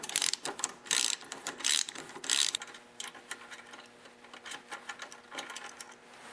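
Thread tap backed out of a bolt hole in a small engine muffler, giving rapid metallic ratcheting clicks and scraping turns in bursts, close and fairly quiet over a steady low hum.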